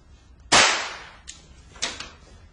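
A single sharp gunshot bang cracks out loud and close, its tail fading over about a second, followed by two fainter echoing cracks.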